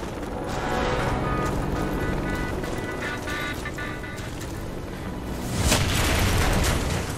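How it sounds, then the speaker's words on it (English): A grenade detonates in the shooter game Warface, a broad rumbling boom swelling up late in the clip over a dense bed of steady game noise. "Throw a grenade and hit multiple targets."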